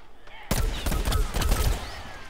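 Rapid cartoonish gunfire from a Plants vs. Zombies: Garden Warfare match, a dense volley of quick shots bursting in after a quiet moment and continuing loud and close.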